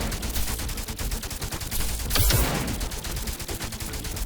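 Squad units firing their weapons in the tactical game There Came An Echo, a dense, continuous rattle of rapid shots with a louder burst midway, steady and busy throughout.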